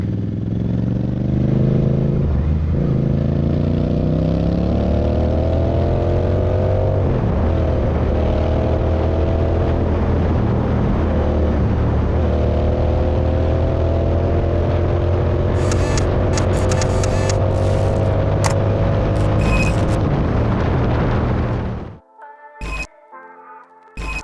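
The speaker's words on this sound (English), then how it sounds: "this baby is a loud and fast, the Continental GT Cup bike" Royal Enfield Continental GT Cup race motorcycle on the Kari Speedway track in Coimbatore, a loud close engine note rising and falling through repeated gear changes for about twenty seconds before cutting off to near silence.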